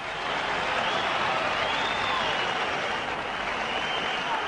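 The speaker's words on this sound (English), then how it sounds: "the Wembley crowd were yelling for him all the way to the ring" A boxing crowd at Wembley roars and cheers in a dense, sustained wash of noise that holds steady throughout, with no distinct voices standing out.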